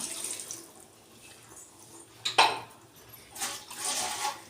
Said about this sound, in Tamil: வெங்காயம் தக்காளி அரைச்சி வச்சு தண்ணி இருக்குது இதையும் வந்து சேர்த்துக்கலாம்